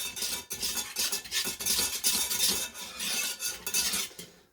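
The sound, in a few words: stirring paprika into thickened milk sauce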